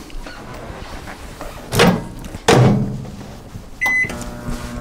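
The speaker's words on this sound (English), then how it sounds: "Put this in the microwave for about 1 minute." A kitchen microwave oven: a couple of door clunks, a sharp beep, then a steady electric hum with a faint whine as it starts running, close by.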